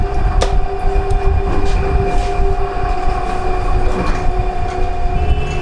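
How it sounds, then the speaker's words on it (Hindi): A lift carrying riders up toward a high floor gives off an odd, steady mechanical rumble with a sustained hum and a few brief clicks, loud and continuous throughout with no talking. "बट इस लिफ्ट की ना आवाज अजीब सी है।"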